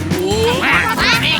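Cartoon ducks quack in a quick, loud burst of nasal calls, close and overlapping, from a children's animated show.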